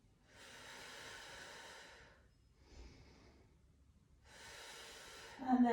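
Slow, steady breathing during a Pilates exercise, two long airy exhalations separated by a quieter breath, close and alone, with a brief rustle at the end.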